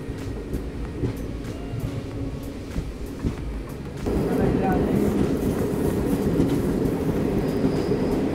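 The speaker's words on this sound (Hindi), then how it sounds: "तो यहाँ अपनी ट्रेन आ चुकी है अभी खरियार रोड रेलवे स्टेशन" Train pulling into Khariar Road railway station, the first station in Odisha, on the Samta Express route; steady rail rumble and rattle that grows louder about halfway through, with faint voices in the background.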